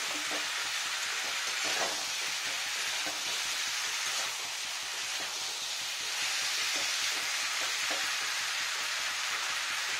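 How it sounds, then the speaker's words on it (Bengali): Cauliflower curry with tomato, made without onion or garlic, sizzles steadily in a pan as it is sautéed and stirred, a continuous close frying hiss with faint scraping and no talk. "আমি একটু কষিয়ে নিই 2-3 মিনিট ধরে ধরে।"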